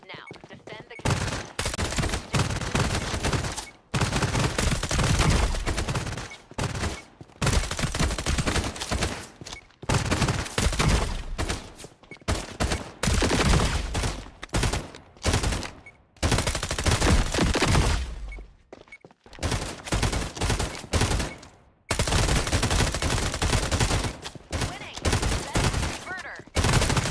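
Turret guns in Throne and Liberty hammer out long, loud automatic bursts, nearly continuous and broken only by brief gaps, with voices talking over the barrage.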